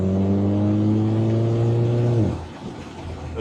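Volkswagen Jetta GLI exhaust droning loudly and steadily while cruising, then the engine note drops away abruptly as the throttle lifts, leaving rougher road and wind noise; no talking.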